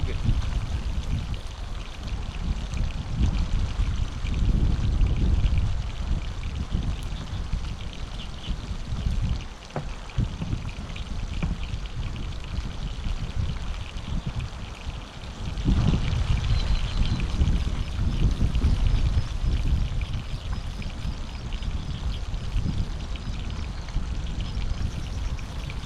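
River water flowing steadily during a fishing outing, a continuous loud rushing and burbling wash with no break, close by and filling the whole scene.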